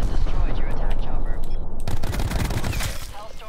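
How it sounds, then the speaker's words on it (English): An attack chopper is destroyed in a video game, heard as a dense, loud burst of rapid gunfire-like crackling that breaks into a rumbling, fading roar. "The noise when the attack chopper dies, like the noise it makes, is kind of cool. It's like a dying beast."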